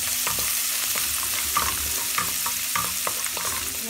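Garlic sizzles and crackles steadily in hot oil in a home kitchen, with occasional scraping stirs of a spatula breaking through the continuous frying hiss. No one speaks.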